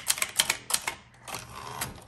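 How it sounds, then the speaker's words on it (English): Keys strike rapidly on a 1965 Brother Signature 440T (Montgomery Ward) vintage manual typewriter, a close, crisp burst of clacks with a brief pause midway, then another run of keystrokes. "this is my first Brother typewriter"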